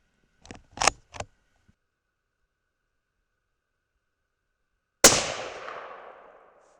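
A Thompson Center Compass rifle in 6.5 Creedmoor fires a single hand-loaded 129-grain Hornady Interlock round over 42.0 grains of powder: one sharp, loud report with a long ringing decay, preceded by a few soft mechanical clicks.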